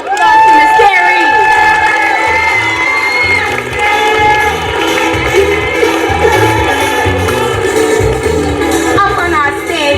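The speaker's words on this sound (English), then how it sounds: "Let's give a round of applause to Miss Carrie." School word parade audience at Genesis Academy cheering and applauding loudly, children shouting amid a dense crowd roar, with voices and tonal sounds running throughout the whole stretch.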